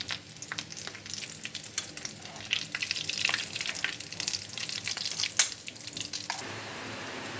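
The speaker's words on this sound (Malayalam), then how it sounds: "നമുക്ക് തിരിച്ച് മറിച്ചിട്ട് നന്നായി മൂപ്പിച്ചതിന് ശേഷം നമുക്ക് എണ്ണയിൽ നിന്ന് കോരിയെടുക്കാം." Chicken cutlets fry in hot oil with a constant crackling sizzle, punctuated by sharp pops and spatters as they are turned, close and lively before the sound thins near the end.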